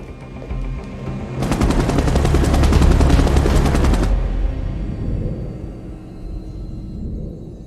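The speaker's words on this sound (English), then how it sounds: "FBI choppers are in our airspace" A loud rhythmic thudding of FBI helicopter rotors swells overhead for a few seconds, then recedes into a low rumble.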